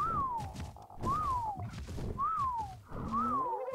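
Four rising-then-falling whistle commands sound in the game Ark Survival Evolved during a Quetzal hunt, each a clear tonal sweep spaced about a second apart over rough background game noise.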